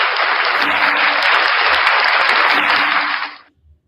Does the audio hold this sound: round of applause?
yes